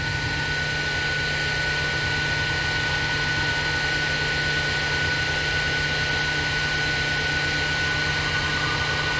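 A machine shop machine runs a program cutting engine parts, spindle around 821 RPM, giving a steady, loud, continuous broadband whir with a fixed hum and high tone throughout, no talk.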